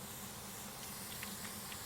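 Water sprays against a gravestone during cleaning, a faint, steady hiss with light patter as the spray hits the stone; no voices are heard.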